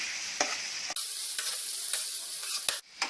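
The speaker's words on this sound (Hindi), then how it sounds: "लहसुन अदरक प्याज हल्का ब्राउन हो गया, अब इसमें टमाटर डाल देंगे और इनको नरम होने तक पकाएंगे।" Tomatoes frying on a pan with lightly browned garlic, ginger and onion for street-style tawa pulao, a bright steady sizzle broken by several sharp stirring scrapes.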